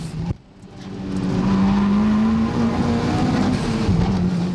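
Mitsubishi Evo driving fast on a circuit, its engine note rising as it accelerates and then holding a loud, steady, close drone with a slight dip near the end.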